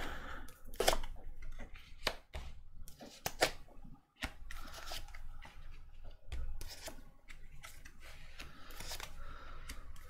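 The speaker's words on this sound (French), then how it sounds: "je tire les cartes et on voit..." Tarot cards are shuffled and drawn by hand in a quiet room, giving a string of crisp, irregular snaps and riffles with short pauses between bursts.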